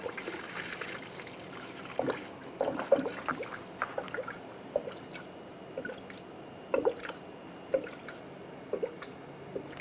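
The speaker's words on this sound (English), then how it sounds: "Now we're going to add the appropriate coolant, a 50-50 mix." A 50-50 coolant mix poured through a funnel into the cooling system of a 1996-2002 Toyota 4Runner, heard as irregular close trickles, drips and gurgles of liquid with no talking.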